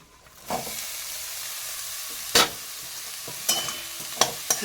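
Boiled banana flower goes into a pan of frying spice masala and is stirred, with a steady sizzling hiss broken by a few sharper scrapes and clatters as the mixture is turned. No voices.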